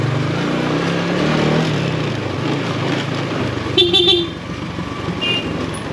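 A short car horn toot sounds briefly over the steady rumble of a moving vehicle and road traffic.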